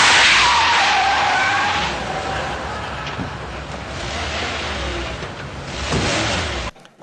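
A car's tires skid and squeal as it swings through a U-turn in the middle of a street, a loud, continuous, close-up scrape of rubber with a rough broadband roar that fades near the end.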